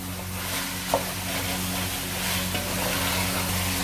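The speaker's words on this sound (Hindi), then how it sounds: "इसको थोड़ी देर के लिए तकरीबन 2 मिनट वास्ते और थोड़ा सा भून लाँगे, ताकि चिकन अच्छे तरीके से अपना कलर भी चेंज कर दे और भून भी जाए" Chicken pieces fry with red chili in a pan for a chicken curry, giving a loud, steady close sizzle with a couple of faint stirring knocks.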